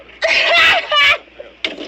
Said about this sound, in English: You're screaming in my ear.